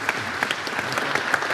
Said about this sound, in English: And it's appropriate to applaud.